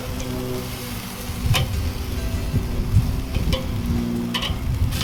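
Chicken wings sizzle steadily on a grill, a dense close crackle of fat and heat, with a few sharp clicks and taps as tongs turn them, no voices.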